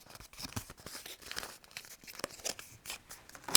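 Scored cardstock being valley and mountain folded by hand, giving a run of quiet crinkling, crackling creases with a slightly louder snap at the end.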